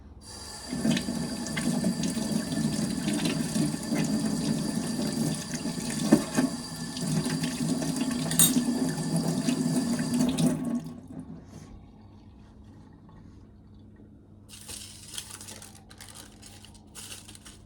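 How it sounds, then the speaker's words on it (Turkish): Hands washed under a running kitchen tap, a steady loud rush of water into the sink for about ten seconds, then the flow stops and only faint kitchen sounds remain. "Elimi yıkayayım bu arada."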